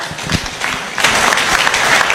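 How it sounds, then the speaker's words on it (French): An audience applauds the models at the official unveiling of the Cameroon Lions' jerseys for AFCON 2025, with lighter scattered clapping swelling into loud, dense applause close by. "je pense que les mannequins qui sont là méritent encore des acclamations"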